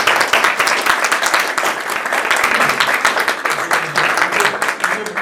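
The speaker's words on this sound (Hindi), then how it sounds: "तालियां रुकनी नहीं चाहिए।" Sustained audience applause at a gents' club honouring ceremony, with dense steady clapping running the whole time and voices mixed in underneath.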